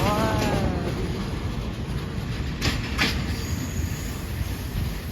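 Train number 961 pulls away from a station in Thailand, its wheels clattering over the rails with a steady rumble and brief squeals, a railcar rolling past close by.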